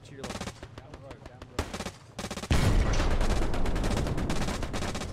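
Close, rapid MG42 machine gun fire in the World War II shooter Hell Let Loose: a run of quick sharp shots gives way to a sustained, loud automatic roar, with voices talking over the battle.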